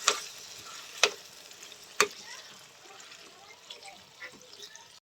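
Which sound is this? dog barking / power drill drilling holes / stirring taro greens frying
stirring taro greens frying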